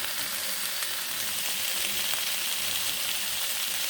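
Shrimp sautéing in garlic, butter and ginger give a steady, even frying sizzle that holds unbroken for several seconds, close and moderately loud with no talking.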